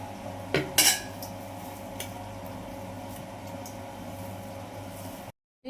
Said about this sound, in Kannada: ನಾನು ಪಾತ್ರೆ ತೊಗೊಂಡಿದ್ದೀನಿ, ಅದು ತೆಗಿತೀನಿ ನೋಡಿ